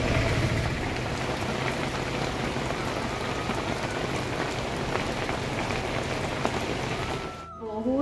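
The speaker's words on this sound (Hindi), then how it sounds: "वर्षा छाड़िले घर को जीबा काहेकि ना बहुत जोर वर्षा हो छ" Heavy rain pouring down steadily, a dense loud hiss of drops on surfaces that continues evenly and then cuts off abruptly near the end.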